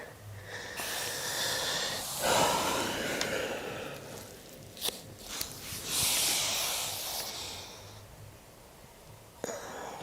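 Heavy, hissing breaths drawn in and pushed out during a Pilates class exercise, several long airy exhalations close to the microphone with small snorts between them, and no talk.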